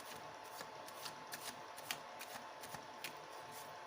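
A deck of tarot cards being riffled and shuffled by hand, a steady run of soft papery flutters and crisp snaps close by, with no voices.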